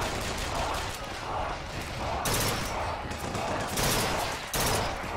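Gun firing in BioShock Infinite, a steady run of rapid, loud shots in clustered bursts with brief breaks, up close over background game noise.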